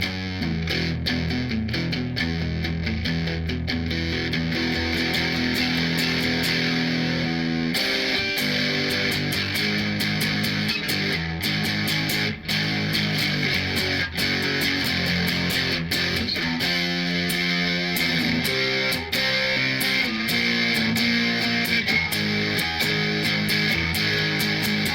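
An electric guitar played through a Rat distortion pedal sounds thick, sustained and gritty, with chords and notes ringing on continuously and brief changes between phrases. No one speaks.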